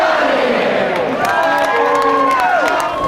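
A packed college hockey arena crowd roars and cheers loudly and continuously, with rising whoops and shouted chants layered over the dense wash of noise.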